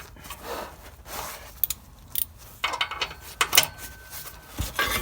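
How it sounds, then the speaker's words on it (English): Ratchet wrench working an exhaust bolt loose on an RSX catback exhaust install in a cramped space, giving short bursts of clicking and metallic scraping that get louder toward the end, with no talk. "Grab an extension for your ratchet so you get more leverage."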